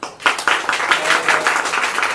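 A crowd claps steadily, a dense patter of many hands close by, with a few voices faintly underneath.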